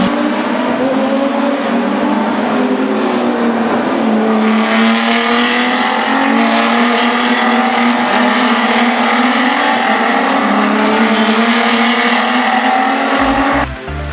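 Race cars lapping a practice session at Yas Island, Abu Dhabi: a steady, loud engine drone that swells sharply after a few seconds into a dense high-revving roar of several cars, holding until it cuts off abruptly at the end.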